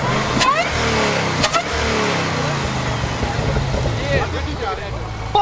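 A supercharged Ford Mustang GT engine revs loudly and steadily, with rising pitch sweeps and a brief drop partway through, while people talk over it close by.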